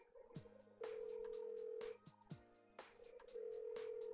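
A phone rings unanswered in the Persona 4 Golden video game, a few sharp clicks followed by long, steady electronic ring tones that repeat with short gaps, clear and alone.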